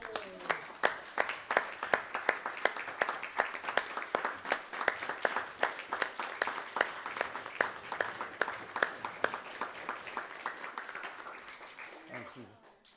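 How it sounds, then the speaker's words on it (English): Sustained round of applause from a city council meeting audience, dense steady clapping filling the room for about twelve seconds before tapering off. "I think we owe her a round of applause"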